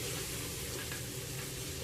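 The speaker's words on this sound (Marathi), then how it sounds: "इथे तुम्ही बला परतताना गॅस मंद आचेवरच ठेवायचा आहे" Pieces of ribbon fish sauté in a pan over a low gas flame, giving a steady, dense sizzle that carries on without a break for a brief moment.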